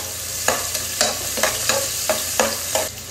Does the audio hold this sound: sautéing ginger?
yes